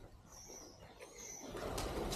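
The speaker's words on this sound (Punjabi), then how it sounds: "ਕਬੂਤਰਾਂ ਨੇ ਡੇਰੇ ਪਾ ਲਏ ਨੇ" Birds chirp and call outdoors around a derelict old building, over a steady background hiss, with a few brief higher tweets; no pigeon coos stand out clearly.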